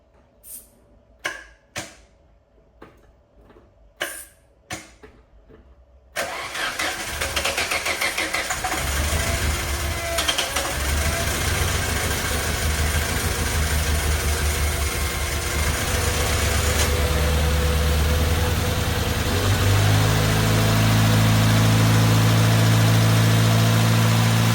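A Renault 5 TC engine cranks in several short, separate bursts, then catches and settles into a loud, steady idle that roughens and deepens toward the end.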